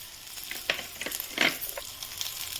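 Onions frying in oil in a pan for a Kannada-style biryani rice and eggplant gravy, giving a steady soft sizzle with brief louder crackling bursts and stirring, close up and without talk.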